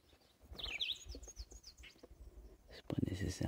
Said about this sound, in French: je veux pas enterrer le son des oiseaux